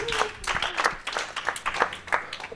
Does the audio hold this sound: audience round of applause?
yes